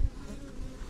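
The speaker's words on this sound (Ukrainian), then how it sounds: "Точно, літає оса в Вуликові." A wasp flying around inside a beehive, a steady close insect buzz with a faint drone that persists through the whole moment, no talking.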